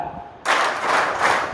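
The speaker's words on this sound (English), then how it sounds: "Okay, so clap." A group of students at a workshop energizer game clap their hands together in a steady burst of loud, dense applause-like claps right after a brief quiet moment.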